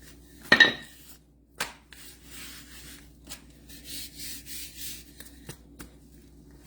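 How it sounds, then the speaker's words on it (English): A fondant roller rolls out fondant on a work surface, soft repeated rubbing strokes with a few sharper knocks and clacks, close and fairly quiet in an otherwise still room. "I'm just going to take my fondant roller, and I'm going to roll this out until probably 1/4 of an inch"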